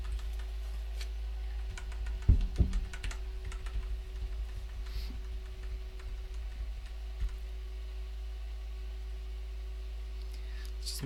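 Keys clack on a PS2 computer keyboard at a liquid-nitrogen Skylake-X overclocking bench. A quick cluster of sharp keystrokes comes early, then sparse scattered taps over a constant electrical hum.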